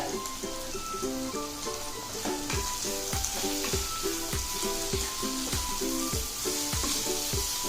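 Keema sizzles and fries steadily in a pan on the stove, a close, continuous crackle with rhythmic stirring or scraping knocks throughout and no talk.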